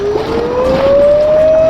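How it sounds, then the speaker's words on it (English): A siren tone slowly rises in pitch, steady and fairly loud against a broad background rumble. "I got 2 more sirens."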